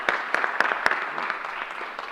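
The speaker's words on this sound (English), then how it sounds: "I'm going to give you an extra round of applause for everything you've done" A small round of applause for healthcare workers at a COVID-19 booster vaccine site in the Bronx, with a few sharp claps up front thinning into softer scattered clapping.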